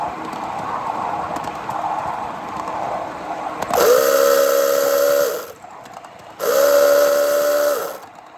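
A miniature live steam train sounds its whistle at a pedestrian crossing, two sustained steady blasts about two seconds each with a short gap between, loud and close over a hissing, rumbling engine.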